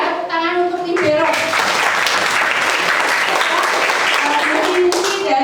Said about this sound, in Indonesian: Tepuk tangan untuk Libero.